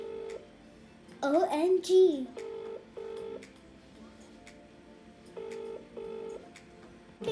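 A phone ringback tone repeats in paired bursts, steady and clear, while a child briefly exclaims excitedly.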